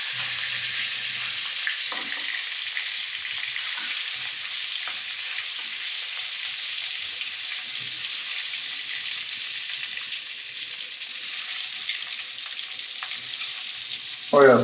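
Turmeric and other spices fry in a pan with a steady, bright hiss that runs unbroken, broken by a few soft scrapes of stirring and a short knock at the very end.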